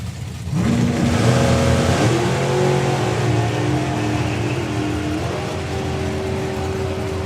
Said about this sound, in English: So the throttle stop comes off for Paul, hunts down Ellie